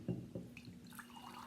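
Bottled water pours into a cup in short gurgling splashes that drip and trickle briefly, close and fairly quiet, with no one talking.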